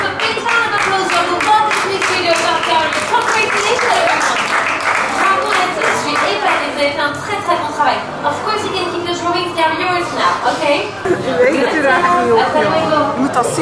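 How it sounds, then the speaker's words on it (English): Applause from an animation class audience at the Disneyland Paris Animation Academy, steady loud clapping mixed with lively chatter throughout, close and continuous. "You can give yourself a big round of applause"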